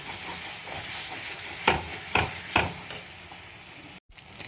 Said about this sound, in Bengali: লঙ্কা গুঁড়ো, হলুদ, ভালো করে কষিয়ে নেব।